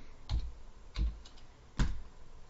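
Three separate keystrokes from someone typing code on a computer keyboard, each a crisp close click with pauses of about half a second between them, over quiet room background.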